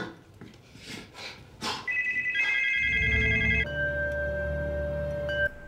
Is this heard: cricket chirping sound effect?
no